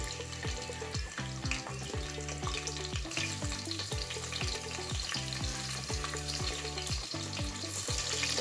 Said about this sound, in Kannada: ಸ್ವಲ್ಪ ಫ್ರೈ ಮಾಡ್ಕೋಬೇಕು ಈರುಳ್ಳಿನ